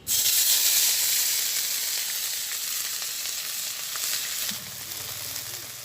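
Ground spice paste sizzles loudly in hot mustard oil in a village kitchen, a steady bright frying hiss that eases slightly, then a low rumble of stirring near the end.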